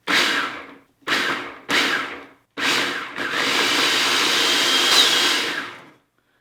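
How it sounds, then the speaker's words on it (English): A food processor blends white chocolate ingredients, first in four short pulsed bursts, then in a steady loud whir that runs for about three seconds before winding down, close and with no talk over it. "into that food processor and blend it up that way"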